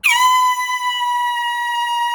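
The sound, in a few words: air horn blast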